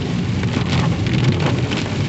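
Steady rain drums on a vehicle while it drives down the steep Agumbe Ghat road in the Western Ghats, a continuous close wash of noise with no talking.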